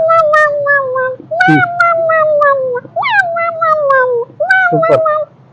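A voice imitates a cat, giving a series of drawn-out meows, four or five in a row with brief pauses, close and loud.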